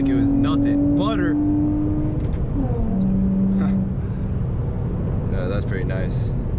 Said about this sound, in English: Oh man, yup, right into third gear like it was nothing.